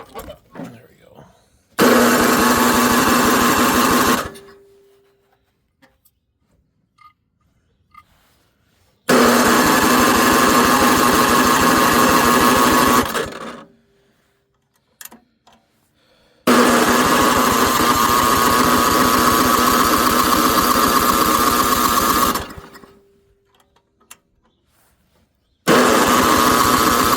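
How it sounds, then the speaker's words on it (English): Ariens ST524 snowblower engine tried on electric start: three loud bursts of cranking and running, each several seconds long, separated by short near-silent gaps, with a steady engine drone in each burst. "let's try it with the electric start"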